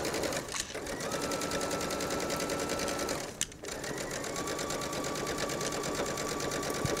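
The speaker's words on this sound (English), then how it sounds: "And you're gonna stitch all the way down." A sewing machine stitching down the facing of an unlined jacket, a fast, steady mechanical whir running almost without a break, with two brief dips where the stitching pauses, close and alone.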